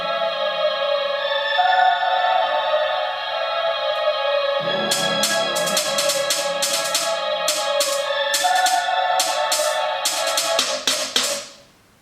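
A beat's closing section opens with a sustained melodic sample playing alone, then crisp rapid drill hi-hats and a trap part come in with bright ticking bursts, before everything cuts off abruptly near the end.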